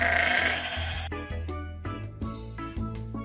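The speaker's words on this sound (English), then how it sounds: "Sheep." Sheep bleating in a short series of loud, wavering cries, one after another, close and clear with no talking.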